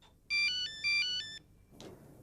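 A mobile phone plays a bright electronic ringtone, two short repeating bursts of tones, and then falls quiet, leaving a faint room hush.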